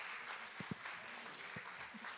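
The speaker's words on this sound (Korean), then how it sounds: "박수 한번 주십시오" Applause from a citizens' council forum audience, a steady dense wash of clapping filling the room, with a few brief voice murmurs rising over it.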